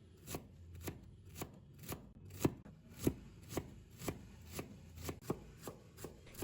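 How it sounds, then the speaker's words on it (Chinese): Knife chopping food into small dice on a cutting board while preparing an instant-noodle and egg dish, steady rhythmic close knocks, about two per second, alone with no talk. "最后切成小碎丁"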